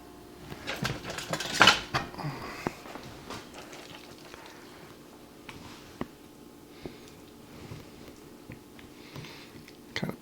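A spoon scrapes and taps against a metal muffin pan while meatloaf stuffing is packed into the cups, giving soft irregular clinks and knocks with one louder clatter early on, all fairly quiet and close.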